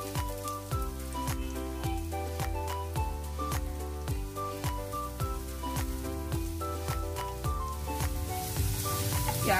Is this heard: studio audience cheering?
no